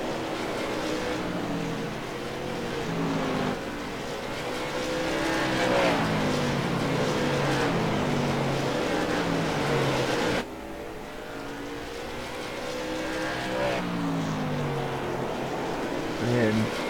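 Late-model race cars in the Fascar sim racing game at South Boston drone steadily, with engine notes rising and falling through gear changes under continuous commentary.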